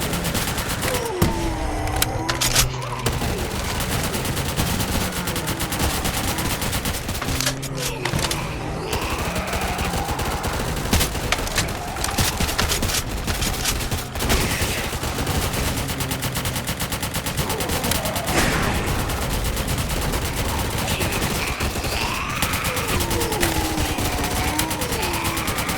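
Constant gunfire in the Roblox game Zombie Uprising, dense overlapping shots and automatic bursts mixed with game music and effects, loud and unbroken throughout, including SV-98 sniper fire.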